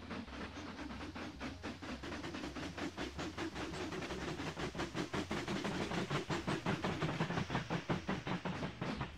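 A train passes in the Mashinky railway-building video game, carrying a steady low rumble and steam hiss with a regular clickety-clack rhythm that grows slightly louder as it rolls by.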